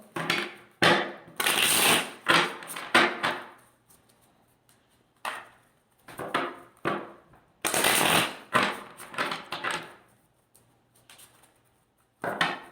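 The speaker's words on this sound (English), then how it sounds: "let's pull some tarot cards here and see what Spirit has for you" Tarot cards are shuffled in repeated crisp riffling bursts, close and fairly loud, separated by short quiet gaps.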